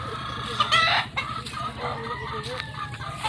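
Chickens cluck and a rooster crows on a farm where a Halsey Gray hen sits brooding, the calls close and loud over a busy background of farmyard noise.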